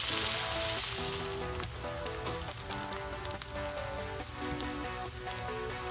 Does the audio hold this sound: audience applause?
no